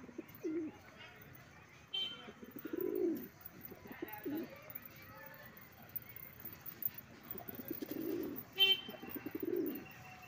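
Pigeons coo in a loft, with several low, throaty bursts at irregular intervals and some faint chirps, and a person talking now and then.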